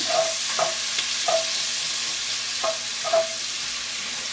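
Garlic stirred in a pan while braising beef short ribs in red wine sauce: five light scraping strokes of a spoon spaced across the stretch over a soft, steady sizzle, close and fairly quiet, with no talking.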